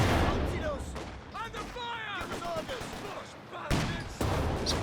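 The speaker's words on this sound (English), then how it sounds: "6-pounder, returning fire." Gunfire from a 6-pounder anti-tank gun in the World War II strategy game Company of Heroes 2 cracks over a busy battlefield mix, with heavy bursts near the start and end and game voice lines between.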